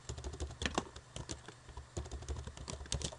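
Fingers tap quickly on a computer keyboard, close and fairly quiet, in irregular bursts of clicking keystrokes with a brief lull in the middle.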